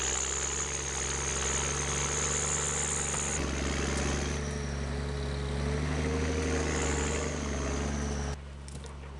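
A John Deere log loader's engine runs steadily as its hydraulic arm moves logs, with a constant mid-pitched drone, shifting whine and a brief change in load near the end, without speech.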